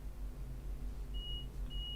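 A guard buzzer in a train simulator game on the Swansea to Cardiff Central route sounds as two short, steady electronic beeps, the second cut off at the end, over a constant low engine rumble.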